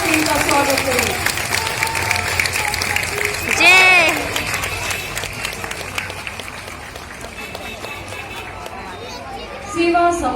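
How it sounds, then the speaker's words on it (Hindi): Applause with crowd chatter from an audience welcoming a Uttarakhand Police flag march team at a state foundation day event, a fairly steady wash of clapping and murmur with a louder burst near the start and another near the end. "एक बार जोरदार तालियों से इनका स्वागत करें।"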